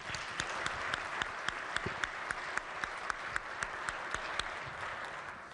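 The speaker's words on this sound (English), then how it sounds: "Give them a round of applause." Sustained applause from a legislative chamber welcoming pages, steady dense clapping with a few sharper individual claps standing out, filling the room without speech over it.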